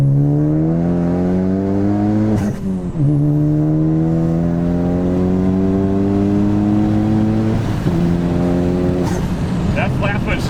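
Big-turbo Ford ST making 650 wheel horsepower, street racing in Mexico: loud, close engine pulls climbing steadily in pitch, broken twice by quick flat-foot shifts with a brief drop and crackle before the revs build again.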